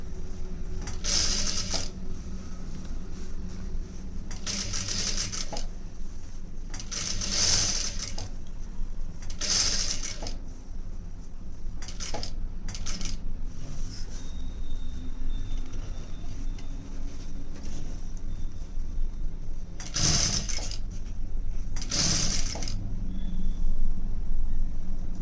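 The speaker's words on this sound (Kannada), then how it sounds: "ಈಗ ನಾವು ಸ್ಟಿಚ್ಚನ್ನು ಹಾಕೋಣ" A sewing machine stitches fabric from the lining side, giving bursts of rapid mechanical clatter that start and stop several times over a steady background hum, with no talking.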